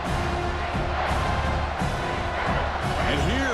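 A college football stadium crowd roars in a dense, continuous wash of noise as the home defense faces a red zone stand, with a commentator talking over the din.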